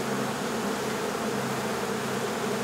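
Dense, steady buzzing from a mass of honey bees fills an indoor space during a bee removal, a loud, continuous drone with no pauses and no talk.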